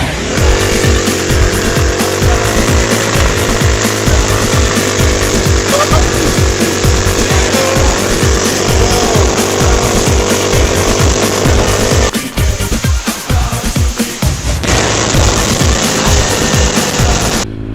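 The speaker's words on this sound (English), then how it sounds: "Full throttled with a passenger on a 150cc scooter." A 150cc scooter engine carrying a passenger revs hard and steady at full throttle, loud and close, with a brief dip and wind roar near the end.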